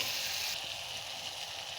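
Shrimp sizzling in hot oil in a pan, giving a steady, close hiss of frying that carries through without pause and with no voices.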